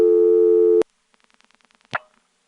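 Telephone dialing the digit 8 through a step-by-step switching exchange: a steady tone cuts off, then a rapid run of about eight faint, even clicks follows, ending in a louder mechanical clunk.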